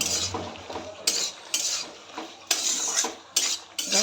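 Chopped chillies and dried shrimp are stirred with salt in a pan for a flat-bean dish, a spatula scraping and clinking against the metal in repeated sharp strokes with a faint sizzle between them.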